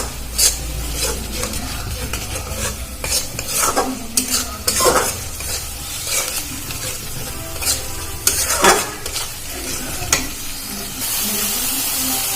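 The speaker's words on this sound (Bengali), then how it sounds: "এবারে ভালো করে ভেজে নেব।" Ginger paste frying in a pan for dhokar dalna, a Bengali lentil-cake curry, with a steady sizzle under repeated scraping and stirring strokes of a spoon against the metal, close and continuous.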